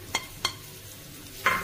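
Onion, green chili and coriander leaves hit hot oil in a pan: two quick taps, then a short burst of sizzling, all fairly quiet and close, with no one speaking.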